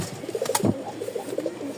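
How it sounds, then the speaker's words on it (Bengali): A pair of feather-footed pigeons coo close by, a series of soft throaty burbling calls repeating over a couple of seconds with no talk. "ডাক দেখেন কবুতর জোড়াটা"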